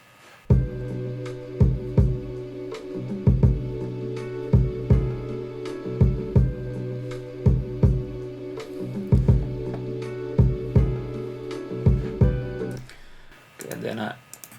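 A produced hip-hop beat with a punchy processed kick drum thumping in a regular pattern, layered over a looping sustained sample, loud and upfront.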